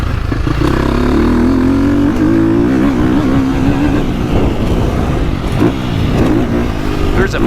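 Dirt bike engine, a 2025 Honda CRF450R or KTM 450 four-stroke motocross bike, revving steadily while being ridden, a loud close continuous drone with rising and falling pitch and brief throttle blips throughout.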